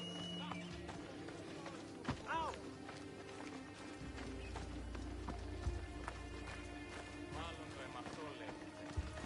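Horse hooves clip-clopping at a run in Assassin's Creed Odyssey on PS5, a steady rhythmic patter under game music and ambience, with a whinny and occasional louder thuds.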